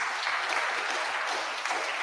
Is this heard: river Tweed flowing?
no